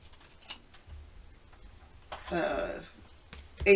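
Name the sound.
scissors trimming paper card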